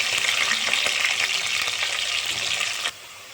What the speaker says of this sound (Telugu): అలాగే కట్ చేసి పెట్టుకున్న పచ్చిమిర్చి, ఉల్లిగడ్డ వేసుకోవాలి.